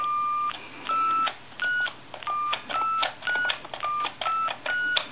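A sequence of short electronic keypad beeps from a Western Electric Princess touch-tone telephone, each a brief steady tone, pressed in an uneven rhythm with small gaps; most keys sound very high-pitched and off-frequency.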